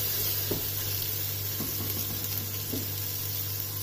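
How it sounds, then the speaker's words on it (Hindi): Garlic and ginger paste fries in a pot for lentil dal, giving a steady, loud sizzle under a constant low hum, with a few soft stirring scrapes breaking through. "लहसुन और अदरक के पेस्ट को मैंने इसमें 2 मिनट तक फ्राई कर लिया"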